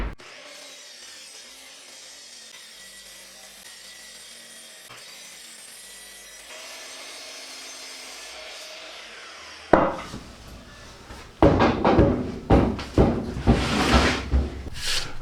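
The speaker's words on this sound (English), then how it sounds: "now we'll take them over to the miter saw, cut them down to the proper length" Miter saw cutting wood pieces to length for a DIY rifle rack, heard after a quiet stretch as loud close bursts of blade biting through wood with a clunk at the start, repeating in several cuts.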